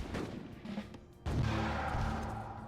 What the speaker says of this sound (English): this cannon's actually doing some good damage against these muskets